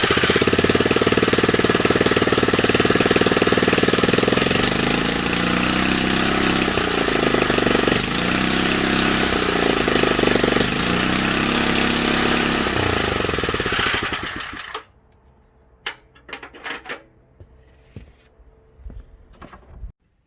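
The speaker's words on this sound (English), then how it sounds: "So that was the little 3 horsepower Briggs running." A small 3-horsepower Briggs engine with a suspected fuel leak runs loud and close with a rapid, rough, pulsing chatter for about fifteen seconds, then cuts out, leaving quiet with a few scattered knocks.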